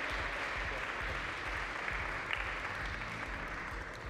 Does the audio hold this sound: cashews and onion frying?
no